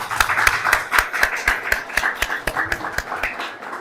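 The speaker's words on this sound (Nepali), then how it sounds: "उहाँलाई चाहिँ हामी धन्यवादको ताली बजाउनेछौँ यो समयमा चाहिँ" A congregation claps in thanks at a Baptist church Christmas celebration in Kakarvitta, Nepal, giving a steady, fairly rhythmic run of loud, close hand claps for about four seconds.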